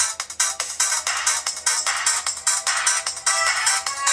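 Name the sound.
music track playing from Alcatel One Touch 4015D phone speaker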